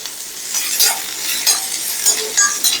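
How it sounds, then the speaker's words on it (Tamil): Pumpkin pieces sauté in a spoonful of oil in a pan, a continuous bright sizzle broken by several sharp stirring scrapes of a spoon, close and fairly loud, with no talking. "இப்போ ஒரு ஸ்பூன் எண்ணெய் விடணும். ஏன்னா இந்த பரங்கிக்காய் வதங்கணும் இல்லையோ"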